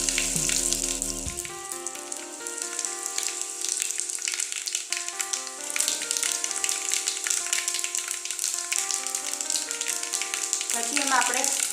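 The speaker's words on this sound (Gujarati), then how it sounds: "રાઈ જીરું અને સૂકી મેથી અને લસણ નાખીશું।" Mustard seeds, cumin, dried fenugreek and garlic sizzle steadily in hot oil as a tempering for sweet-sour moong dal, a continuous bright hiss running under loud background music.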